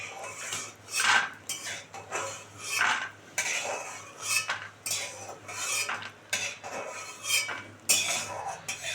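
Fried peanuts are scooped out of a pan with a metal utensil, making repeated close scraping clinks and clatters in uneven bursts, with no talk.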